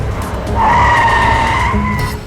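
A car turns sharply around, its tires letting out one loud, sustained skidding squeal that lasts just over a second and a half, close by, with no talking.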